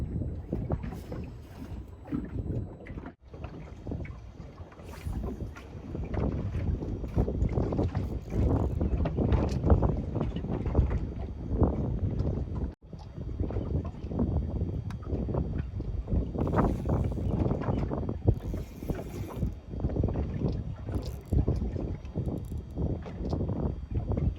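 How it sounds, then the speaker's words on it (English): Strong wind roars and buffets steadily across a microphone on a small fishing boat out on a bay, with a low rumbling gust noise that never lets up. "Wind is way too strong, guys."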